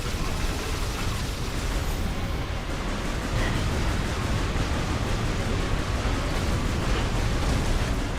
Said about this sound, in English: And now I'll just continue shooting you some more.